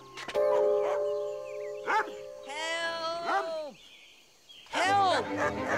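A cartoon dog near an old scrapyard barks and yelps in a few short, loud bursts over a sustained musical backdrop.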